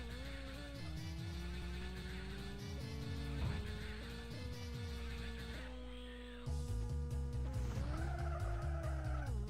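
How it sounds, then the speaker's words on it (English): In a racing video game, a car skids and slides into a wall, with engine tones gliding up and down through sustained tire screeching over game music, loud and continuous. "Again with the car sliding into the wall."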